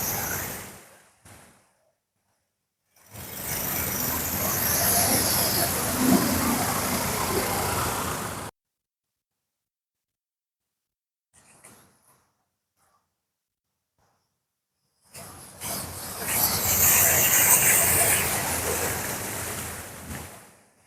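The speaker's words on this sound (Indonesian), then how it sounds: "kalau kendaraan lewat, terutama roda 4, airnya langsung meluap ke bahu jalan" Cars, mostly four-wheelers, plough through a flooded street in Sungguminasa after an hour of heavy rain, around dusk; two long surging washes of spraying water, each several seconds, separated by near silence and a faint distant pass.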